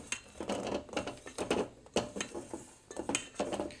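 A spoon or whisk folding egg whites into omelette batter in a bowl, giving a run of quick, irregular clinks and soft scrapes against the bowl, close up with no voices.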